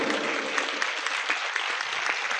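Audience applause at a spiritual lecture hall gathering, dense sustained clapping from many hands, loud and even from start to finish.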